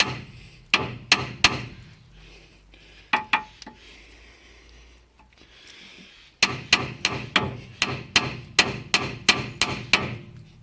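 Sharp hammer blows on a steel steering hub of a Mitsubishi FTO to pop loose the track rod end ball joint, three quick taps, a pair, then a steady run of about a dozen ringing metallic strikes, close and loud.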